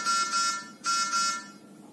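A NICU radiant warmer sounds its high-temperature alarm, a repeating electronic buzzer tone in two-pulse bursts, clear and close in a quiet room.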